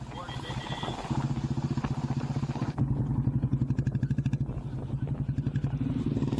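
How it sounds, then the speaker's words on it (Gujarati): A motorcycle engine drones steadily nearby at high speed with a fast, rhythmic pulsing throb, its note staying fairly constant throughout. "ઓવર સ્પીડમાં બાઇક ચલાવી લોકોના જીવ જોખમમાં મૂક્યા"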